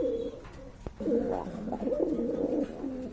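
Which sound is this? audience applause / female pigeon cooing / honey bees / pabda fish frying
female pigeon cooing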